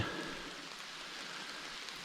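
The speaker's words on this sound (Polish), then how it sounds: "deszcz dał się we znaki" Rain falling in a forest during mushroom picking: a soft, steady hiss of drops on leaves and ground, faint and continuous with no voices.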